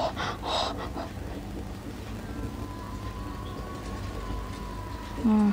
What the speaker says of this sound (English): It's panting hard like